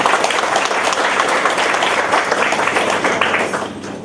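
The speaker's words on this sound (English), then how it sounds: "please welcome him with a round of applause." An audience at a book launch applauds to welcome a speaker, loud dense clapping from a crowd that stays steady, then fades toward the end.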